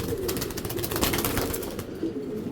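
Mili racing pigeons cooing softly in a loft, low repeated murmuring coos blended with faint rustling, close and steady with no talking.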